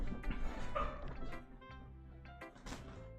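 A dog barks indoors, a few soft yips and bow-wows heard faintly at a distance amid low background noise.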